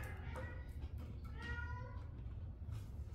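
A pet cat meows a few times at moderate volume indoors over a steady low background hum, with no talking.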